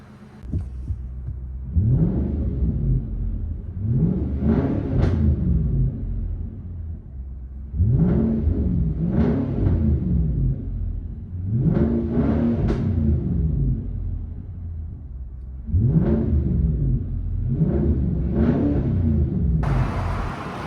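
Inside the cabin of a 2020 Nissan Armada Platinum with a 5.6L V8 and Magnaflow Magnapack exhaust, the engine note rumbles and swells in several repeated revving surges, each rising and falling, loud and steady with no talking.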